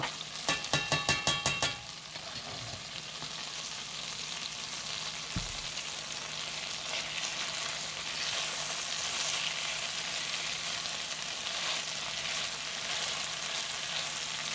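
Fresh herbs are stirred into a simmering rabbit cacciatore. A few quick scrapes and clinks come first, then steady soft sizzling and bubbling continues alone.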